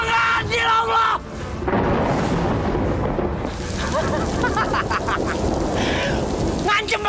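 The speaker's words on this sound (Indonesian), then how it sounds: "Ngancem pakai petir, ha?" Thunder and rain in a dramatic television scene, a loud rumbling crack followed by steady rainfall, with shouting voices over it at the start and end.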